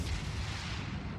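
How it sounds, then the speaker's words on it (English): Naval warship guns fire in a video game, a heavy booming blast with a long rumbling tail filling the short moment, loud and without voices. "I'm gonna have him bow. Firing."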